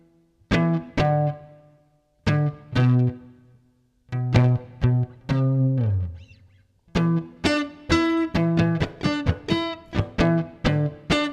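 Low single-note bass line of a song played alone on guitar, plucked in short clear repeated phrases with brief gaps, steady and close, no talking.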